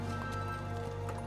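Horses doing a dance routine, their hooves clip-clopping in a steady patter over a constant background hum.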